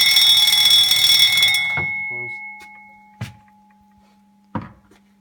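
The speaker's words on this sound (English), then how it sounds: "all 3 doors need to be open for the alarm bell to sound" An electric alarm bell, set off by a PLC once all three doors are open, rings loudly and steadily for almost two seconds and then cuts off. A few sharp clicks follow in the quiet.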